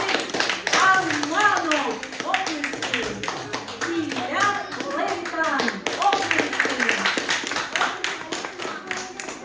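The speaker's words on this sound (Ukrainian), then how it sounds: "Оплески!" A crowd claps steadily throughout at a school's first-day-of-school ceremony, with a voice speaking over the applause.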